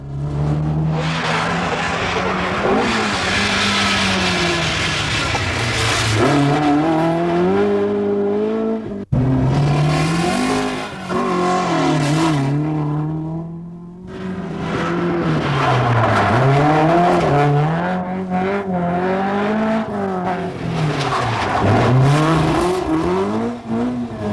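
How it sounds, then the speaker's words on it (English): A Ford Escort rally car charges through a stage of the 1981 Donegal International Rally. The engine revs loudly and continuously, its pitch rising and falling through gear changes, with a brief break midway and no talk. "Healy, the Dubliner, despite an excursion, lies second with his Escort when he goes charging on."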